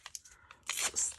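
Coffee-dyed paper tears in a short rip, a few quick scratchy rustles first, then a louder, longer close-up tearing burst with no voice over it.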